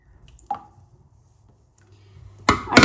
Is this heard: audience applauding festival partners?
no